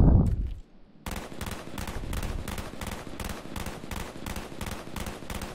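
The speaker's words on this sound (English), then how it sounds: "and then here's the hip firing" A G11 rifle hip-fired in Call of Duty Black Ops, opening with a brief thud and then a steady, evenly spaced stream of rapid shots at moderate level.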